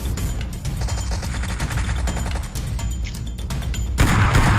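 Gunfire in PUBG Mobile, loud and close: rapid bursts of shots rattle continuously over a dense background, building to a heavier, louder blast near the end.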